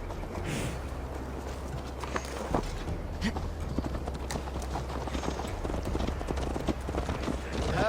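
Horse hooves clip-clop in a steady walking rhythm as a rider travels in Assassin's Creed Valhalla, the beats fairly close and continuous, with voices talking over them.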